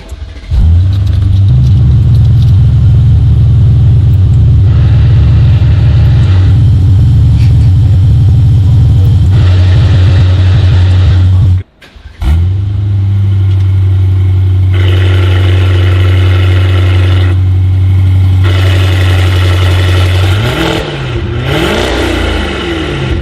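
An Aston Martin engine runs loudly and close in a showroom, holding a deep steady drone with rises in revs, briefly cutting out before roaring back.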